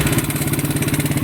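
A motorcycle engine with a stock tensioner idles close by, a fast even mechanical pulse and chatter holding a steady beat through a short burst with no talk.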